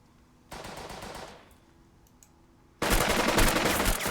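Bursts of automatic gunfire from the strategy game Burden of Command: one rattling volley fades out, then after a quiet pause a louder, sustained fusillade breaks out.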